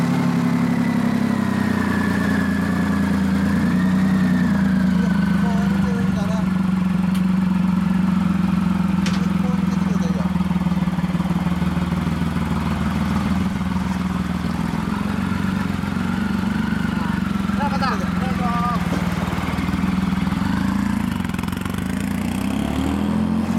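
A 2006 Triumph Rocket III motorcycle engine runs steadily at idle, with a deep, even, continuous throb that holds at a constant loudness and is heard close up without talk.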